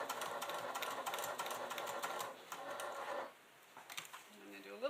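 A home sewing machine stitching a short back stitch in black fabric, a fast, steady mechanical whir for about three seconds that stops, then quieter clicks, with a faint voice in the background.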